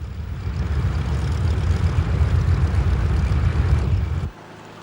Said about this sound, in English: Key to this air assault was a brand new bomber, the B-29, the Super Fortress.